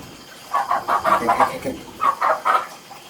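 A chicken clucks in short bursts, a run of rapid, nasal clucks followed by a second shorter series, fairly close and moderately loud against a quiet background.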